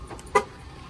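A single short, bright electronic chirp from a new Mercedes-AMG GLE as it locks, brief and fairly close, over a quiet outdoor background.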